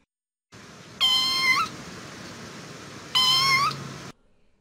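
A cat meows twice, two drawn-out, fairly loud cries separated by a couple of seconds over a faint hiss.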